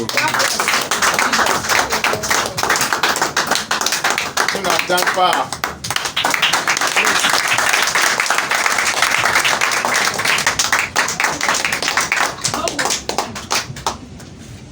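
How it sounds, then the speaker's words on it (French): Congregation clapping at a church service, a dense, steady patter of hands running nearly throughout, with talking mixed in on top. "Applaudissez à Dieu."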